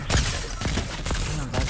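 Gunfire in Fortnite: several sharp shots spaced about half a second apart, loud and close, with the game's background audio underneath.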